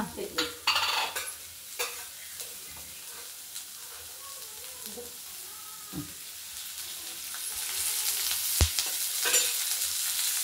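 Food is stirred and fried in oil in a pan in a home kitchen, a soft, low sizzle broken by occasional scrapes and clinks of a spoon against the pan, fairly quiet and close.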